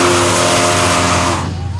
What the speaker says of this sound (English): And here's Lyle in the 6 litre. No. 274, too much wheel spin.